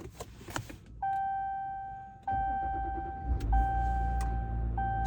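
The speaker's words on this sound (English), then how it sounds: "I'm going to start up the car and we're gonna see what happens." Electronic chime tones ring out, then the diesel engine of a 2023 Ram 1500 EcoDiesel pickup cranks and catches, settling into a steady low rumbling idle.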